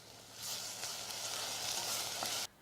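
Onions fry in a pan with a steady, bright hiss that swells in, holds evenly with a few light ticks and crackles, then cuts off abruptly.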